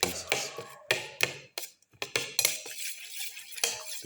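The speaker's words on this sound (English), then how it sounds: "Mix in the ginger pieces" A spoon mixing ginger pieces into tomato for a black pepper tomato omelette, with sharp clinks and scrapes against the pan in an irregular rhythm, close and fairly loud, separated by brief quiet gaps.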